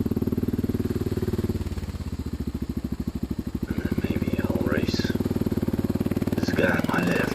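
A motorcycle engine pulses close by while squeezing through traffic, its rapid firing beats clear in the middle before blending into road noise, with someone talking over the final seconds.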